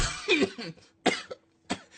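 Three harsh coughs from one person come close and loud in short bursts, spaced by brief pauses, with a faint throat-clearing rasp between them.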